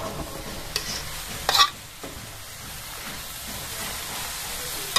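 Food frying in a pan being stirred, a continuous sizzling hiss with a brief louder scrape of the utensil partway through, close and steady.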